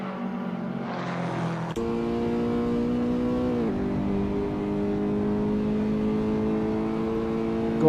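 Blue number 8 race car engine droning at Sebring International Raceway in a racing video game, a steady loud whine that shifts pitch as it changes gear, without talk.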